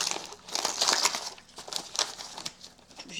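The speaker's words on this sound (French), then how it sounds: "Je vais le déchirer parce que de toute façon, il est scotché de partout." Wrapping paper taped all over a package being ripped off by hand, close crinkling and tearing bursts in irregular bunches with brief pauses between.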